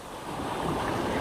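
An ocean wave strikes a small fishing boat at sea, a short rising rush and splash of surf with wind buffeting the microphone, loud and close.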